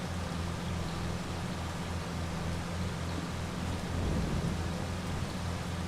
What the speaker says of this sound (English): And I wonder if the rain's actually going to stop.